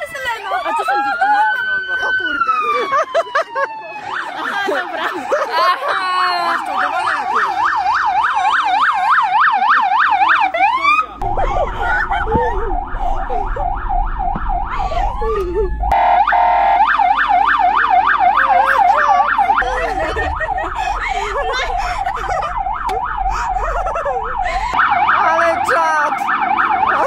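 A police car siren wails loudly and steadily for most of the stretch, cycling up and down in pitch, close by and prominent, with people talking over it now and then.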